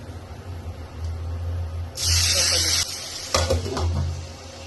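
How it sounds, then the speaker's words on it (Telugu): Garam masala is dropped into hot oil in a pan for a broccoli fry, setting off a sudden close sizzle in two bursts over a low steady hum. "ప్యాన్లో నూనె వేడెక్కిన తర్వాత కాస్త గరం మసాలా వేసి"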